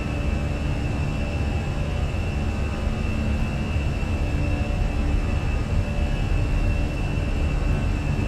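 Simulated Airbus A320 engines at takeoff power in Microsoft Flight Simulator on an Air Canada flight, a loud, steady, unbroken roar with deep low rumble and a hissing upper layer that holds level throughout, with no talk.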